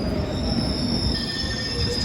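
A London Underground train at Aldgate station squeals steadily at the platform, its high metallic wheel screech held over a loud rumbling roar, close and continuous.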